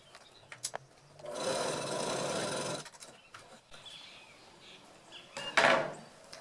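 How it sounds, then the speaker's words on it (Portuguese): A sewing machine stitches fabric in a short burst of steady mechanical whirring lasting about a second and a half, surrounded by quiet handling clicks and fabric rustles close by. "E passo uma costura de pé de máquina aqui"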